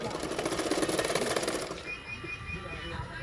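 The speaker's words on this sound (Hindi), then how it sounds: "नेक को थोड़ा सा दिखते हुए मैं नेक को सिलाई करूँगी।" Sewing machine stitching the neck of a blouse, a steady fast mechanical chatter for under two seconds that then stops, leaving a quiet room.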